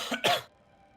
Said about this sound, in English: We heard you cough, so there was like a cough after the groan.